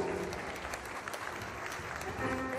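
Dense, steady applause from an audience at a Huasteco huapango dance contest fills the whole stretch, honoring a dancing couple; the crowd claps loudly and continuously with some voices mixed in.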